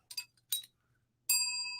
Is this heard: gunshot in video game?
no